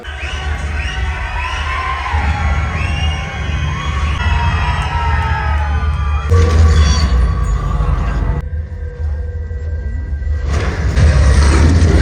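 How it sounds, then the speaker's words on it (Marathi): A dense crowd of moviegoers packs a cinema hall for the film Chhaava, a loud continuous roar of shouting, cheering voices and children calling out, swelling in bursts with low rumbling underneath. "लय गर्दी आज माणसं यायला लागली का"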